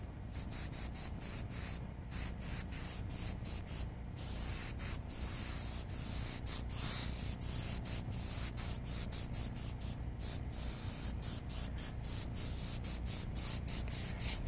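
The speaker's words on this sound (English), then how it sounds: "I'm airbrushing a little heavier yellow into the" Airbrush hissing steadily as heavier yellow paint is sprayed onto a flat black surface, a continuous close spray broken by frequent short pauses as the trigger is released and pressed again.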